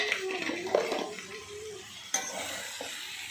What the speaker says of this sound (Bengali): এবারে কিন্তু ঢাকনাটা খুলে নিচ্ছি